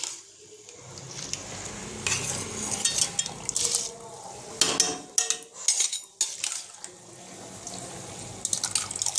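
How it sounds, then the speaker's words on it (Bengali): Running tap water splashes into a bowl being washed in a home kitchen, with irregular bursts of spray and clinks of metal and dishes against the sink, fairly close and loud, no talking. "আমি বাটিটা ধুইতে জল দিয়েছি"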